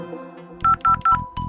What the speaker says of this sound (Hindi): एक बार अर्जुन को फोन लगाकर पूछता हूँ कि कहाँ है वो दोनों।